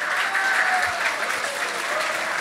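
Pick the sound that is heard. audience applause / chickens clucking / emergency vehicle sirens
audience applause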